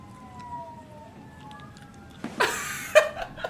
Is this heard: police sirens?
yes